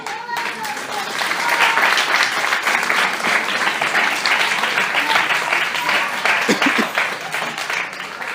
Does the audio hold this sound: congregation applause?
yes